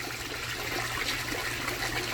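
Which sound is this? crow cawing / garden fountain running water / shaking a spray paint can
garden fountain running water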